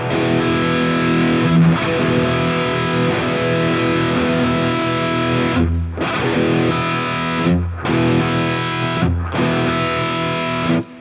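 Heavily distorted electric guitar chords ring out in a dense, buzzing wall, cut by a few brief rhythmic breaks and then struck again.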